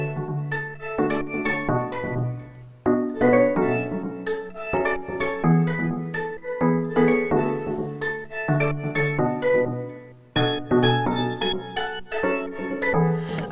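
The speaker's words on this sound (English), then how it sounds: "I'm going to start with the plucks and the melody that I played on piano" Piano plucks and a melody from a song recording play as short, bright, clinking notes in a lively rhythm, with brief pauses between phrases and no voices.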